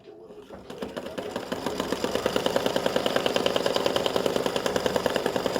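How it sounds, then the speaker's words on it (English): An embroidery machine stitching a script word onto card stock, a fast, steady mechanical needle rhythm that starts up and runs close and loud without pause. "now it's going to stitch the word soon"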